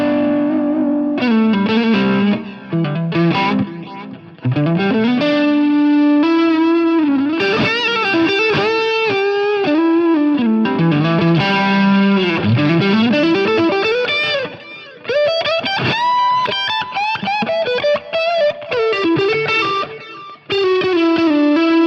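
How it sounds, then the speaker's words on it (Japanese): Electric guitar played through a Line 6 Helix Stadium with effects including a captured amp, reverb and delay, giving distorted, sustained melodic lines and chords with swelling reverb, loud and continuous with only brief gaps. "せっかくなんで最初からエフェクトかけた状態でちょっと弾いてみます。"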